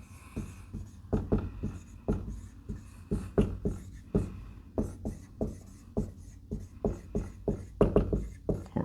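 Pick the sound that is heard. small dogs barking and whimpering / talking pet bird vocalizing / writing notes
writing notes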